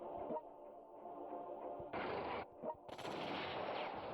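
Aircraft strafe with gunfire in World Conqueror 3: two harsh, loud bursts of rapid fire, one short and one longer, cut through a low rumbling battle backdrop.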